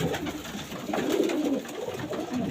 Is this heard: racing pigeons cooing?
yes